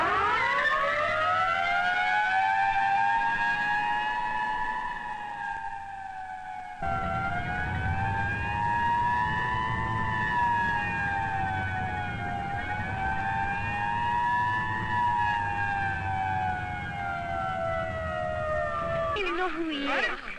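A siren from an old film rises and falls in a loud, continuous wail. It holds its tone for about twenty seconds with a brief dip partway through.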